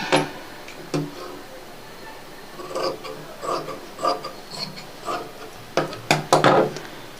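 Fabric for a blouse being cut to measurement with scissors, giving a series of short, close snips and rasps in irregular bursts, with quiet gaps between them.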